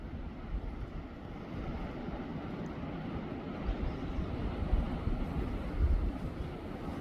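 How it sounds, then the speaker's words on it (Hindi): Strong wind shaking trees in a mountain village: a continuous loud rushing roar with gusty swells and low rumbling buffeting on the microphone, no talk. "पेड़ों के हिलने की जो आवाज़ होती है उसको मेरी भाषा में सुनसाट बोलते हैं।"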